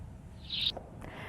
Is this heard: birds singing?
yes